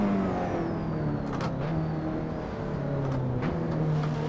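Race car engine in Assetto Corsa holds a steady high drone with slight pitch shifts and a brief dip suggesting a gear change, loud and continuous without talk.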